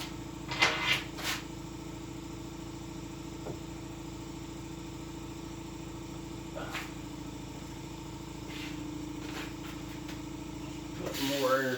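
An air compressor runs with a steady, low mechanical hum in a furniture lacquer-painting workspace, with a few brief knocks and clatters over it and a louder rattle at the end.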